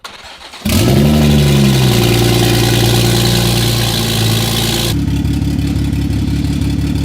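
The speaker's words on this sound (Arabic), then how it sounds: "بعد كده بيشغلوا الموتور وبيحطوا الجير على الغيار الأول عشان يجربوه وفعلا بيشتغل بدون مشاكل" A Toyota Supra A90 engine cranks and fires, then settles into a loud, steady idle held close by, with the tone shifting partway through as it runs in first gear.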